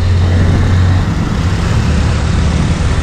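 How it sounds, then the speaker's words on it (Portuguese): A truck maneuvers nearby, its loud, steady low engine rumble and hum filling the scene with a continuous drone and a faint tonal whine that fades after the first second. "Os caras tá manobrando o caminhão."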